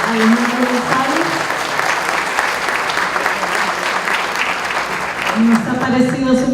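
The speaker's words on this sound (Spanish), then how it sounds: "Un fuerte aplauso para Alejandro González" Audience applause for a speaker at an educational innovation conference, a steady wash of clapping with faint tonal murmurs underneath, continuous throughout.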